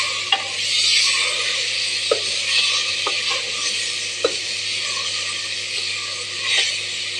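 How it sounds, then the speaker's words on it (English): Onions and blended tomatoes sizzle steadily in a pot, with a spoon scraping and clinking against the sides a few times, close and fairly loud, with no voices. "Give it a bit of a stir."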